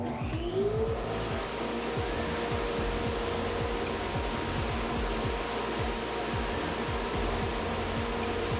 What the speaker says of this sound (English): Start up the dust collector.